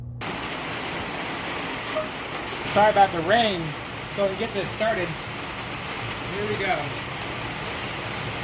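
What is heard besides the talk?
rain falling during outdoor barbecue grilling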